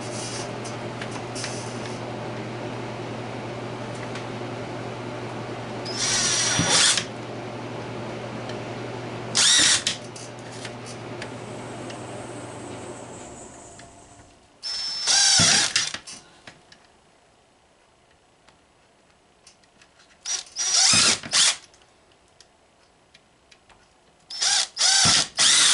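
A power drill fitted with a 7/32 bit starts holes for a primer alarm round counter, with a steady motor whine running for several seconds and then short, separate bursts of drilling after a pause, close up and with no talk.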